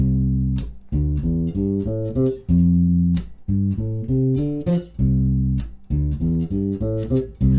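A bass guitar plays a bouncy, syncopated major pentatonic riff, short plucked notes, upfront and steady, repeating a melodic pattern with brief gaps.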